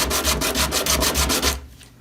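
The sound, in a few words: sanding a wooden instrument neck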